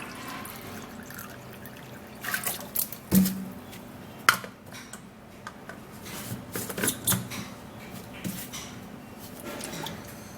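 Water poured into a blender holding garlic: irregular splashing and trickling with clinks of the container, moderately close and alone without talk.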